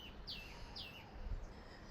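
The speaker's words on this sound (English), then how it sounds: "I love that I'm competing for the bird. Like, I'm having to talk over it. It's so loud." A bird calls nearby with two sharp, bright descending chirps in quick succession over a quiet background hiss, with no speech.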